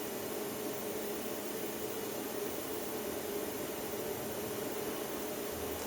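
A steady, loud hiss from a handheld plasma cutter piercing a hole through 5-6 mm steel plate, an even, continuous broadband roar with no breaks and no talking.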